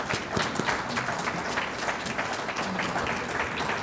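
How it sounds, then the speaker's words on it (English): A fireside event audience gives Paul Hinman and Derek Sloan a round of applause, a steady moderate wash of many hands clapping that holds at an even level throughout. "Give them both a round of applause."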